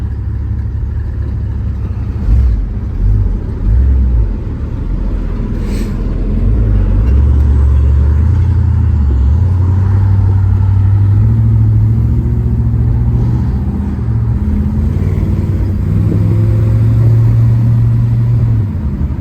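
Sustained close engine rumble from a 1964 Chevrolet Malibu convertible driving down the road, the note rising and shifting as it accelerates through gears, with road and wind noise and no talk.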